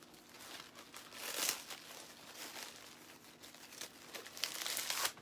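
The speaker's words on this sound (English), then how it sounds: "I'm going to cut some mesh" Deco mesh for a farmhouse chicken wreath being cut and handled, with repeated soft crinkling and rustling bursts close by, fairly quiet and irregular, no talking.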